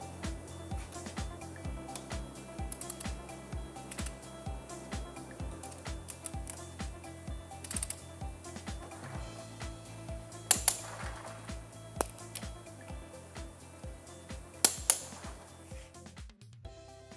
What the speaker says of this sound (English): Torque all 8 screws to 100 Newton meters evenly.